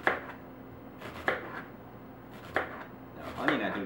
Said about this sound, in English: So I'm just going to take some onion here.